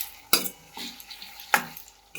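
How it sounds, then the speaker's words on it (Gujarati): Spoon stirring Rajasthani gatta curry with finely chopped green chillies in a pan, giving a few separate scraping clinks against a soft sizzle, close and fairly quiet with no talk. "શાકને આપણે ચલાવી લઈશું."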